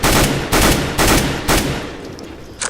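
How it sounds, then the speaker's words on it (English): AK-47 fire in Counter-Strike: Global Offensive (CS:GO), loud and close, sounding as four sharp reports in two quick pairs against a wall, each followed by a short decaying tail. "So let's say you want to do a 2-shot burst."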